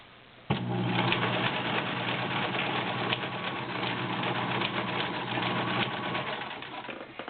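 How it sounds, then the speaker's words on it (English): A Kenmore 1703 heavy-duty cam sewing machine sewing a stretch stitch: the motor starts abruptly and runs as a steady, close mechanical whir with a rapid needle chatter, continuing unbroken for several seconds. "And now I'm going to switch it over and do a stretch stitch."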